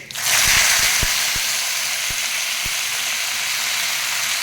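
Okra (ladyfinger) frying in hot oil with mustard seeds and cumin gives a steady, close sizzle throughout, broken by a handful of sharp pops and clicks in the first few seconds.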